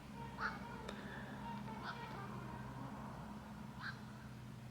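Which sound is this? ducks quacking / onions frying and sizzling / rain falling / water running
ducks quacking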